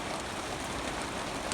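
Steady rain falls over cattle pastures, a continuous even hiss with scattered drop patter and no pauses or voices.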